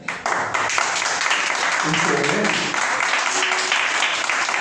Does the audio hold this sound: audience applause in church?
yes